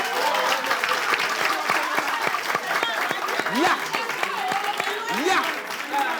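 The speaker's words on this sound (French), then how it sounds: "Applaudissements" Audience applause at the grand final of an entertainment show, broad continuous clapping with a few sharp distinct claps up front and voices calling out over it.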